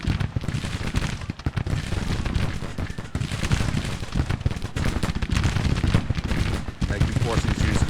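Dense, continuous battle gunfire in the strategy game Grand Tactician: The Civil War, a ragged stream of overlapping musket volleys and cracks with no pause, loud and busy throughout.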